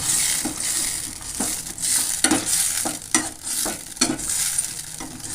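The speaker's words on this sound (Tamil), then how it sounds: "இப்போ நல்லா மிக்ஸ் பண்ணிக்கங்க" Kara chutney being stirred in a pan, with a steady broadband sizzle and regular scraping strokes of a spoon roughly once a second, close and moderately loud, with no talking.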